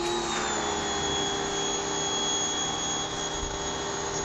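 A jet wash pressure washer fitted with an extension lance sprays steadily outdoors, producing a loud, continuous hissing roar with a steady motor hum underneath, close and unbroken throughout.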